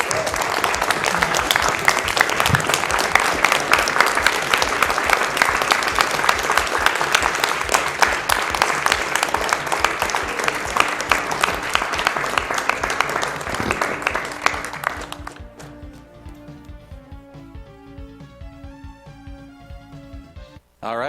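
Live event crowd at Awesome Games Done Quick applauds after a Mega Man 7 speedrun, sustained loud clapping and cheering for about fifteen seconds, then cutting to quiet game music with sparse tones.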